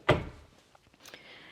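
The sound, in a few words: closet door opening or closing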